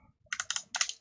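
Quick bursts of keystrokes on a computer keyboard while a value is entered in FormIt 3D modeling software: three or four clusters of crisp clicks, close and clear, ending in a single sharp tap.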